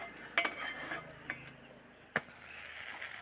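Washed, cut taro stems dropped into cooked toor dal in a pot for a Havyaka-style saaru, giving a couple of sharp utensil clinks and soft splashes against a quiet kitchen background.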